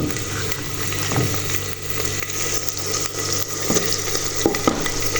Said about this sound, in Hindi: माशाल्लाह से प्याज फ्राई हो चुके हैं और अभी डाल देती हूँ अदरक लहसुन का पेस्ट